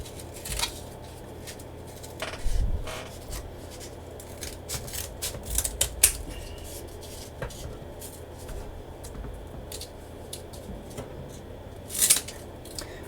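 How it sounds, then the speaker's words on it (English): Scissors cutting double corrugated cardboard, a series of quiet crunching snips and rustles, with a louder burst of cuts near the end and faint low room noise beneath. "You can see what I mean about scissors kind of mangling up double corrugated"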